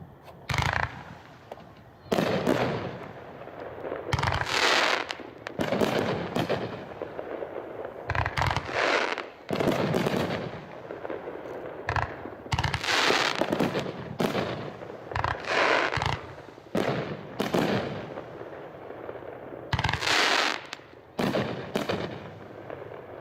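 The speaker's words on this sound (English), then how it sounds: "That was Remember the Alamo." A 30-shot, 500-gram consumer firework cake called Remember the Alamo fires outdoors, loud repeated launch thumps and bursting booms with crackling tails, irregular volleys over about twenty seconds.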